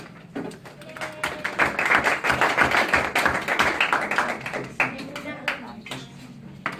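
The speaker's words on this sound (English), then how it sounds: "give a round of applause for everybody that did it" A classroom bursts into applause, dense overlapping claps swelling quickly, holding steady for a few seconds and then thinning out, with faint voices near the end.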